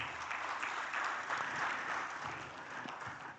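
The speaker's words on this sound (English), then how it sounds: "Another round of applause to Dr." An audience at a conference opening plenary breaks into sustained applause, a dense wash of clapping hands that swells and then tapers gently.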